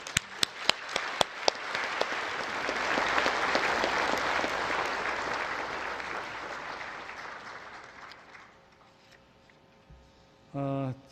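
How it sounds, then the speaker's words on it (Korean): At the national prayer breakfast, a large audience applauds a pastor: a few crisp early claps build into a full, warm round of applause that gradually fades, followed by a brief voice at the end. "우리 고명진 목사님께 뜨거운 박수 한번 부탁드리겠습니다"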